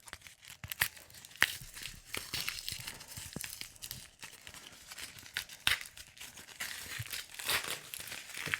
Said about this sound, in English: The paper and tape wrapping is a little bit more difficult to unravel than a lot of other packaging styles.